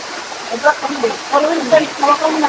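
A mountain waterfall gives a steady, broad rushing wash throughout, with people talking over it close by.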